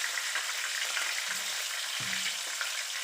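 Mackerel coated in cornstarch fries in a pan with a steady, bright sizzle and crackle that runs throughout, broken by a few soft thuds, with no talking.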